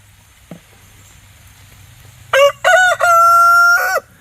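Backyard chickens: a single short cluck sounds near the start, then a rooster lets out a loud, close crow in several bursts, ending in a long held note.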